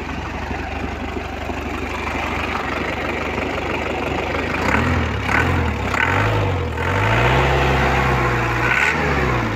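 A Toyota FJ40 with a 13B diesel engine runs steadily for nearly ten seconds, a loud, close, rough idle with rising and falling low engine tones partway through, and no voices.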